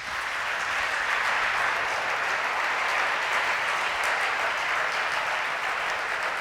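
A church congregation claps and cheers in praise of the Lord, dense continuous applause filling the room at an even, loud level throughout.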